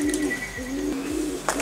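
A homing pigeon coos in soft, repeated low throaty pulses, close by, with light outdoor background noise and a brief rustle near the end.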